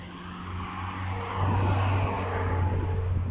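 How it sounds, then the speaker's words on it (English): Cars passing along a town street near a train station, a steady engine rumble swelling as a vehicle draws close and rolls by, with traffic hum and no talk. "There are cars passed by."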